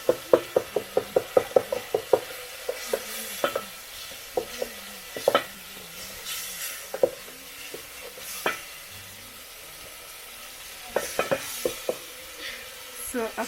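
Tomatoes being stirred in a sizzling pan in a village kitchen, a rapid series of sharp utensil scrapes and taps over a continuous soft fry, pausing midway before resuming.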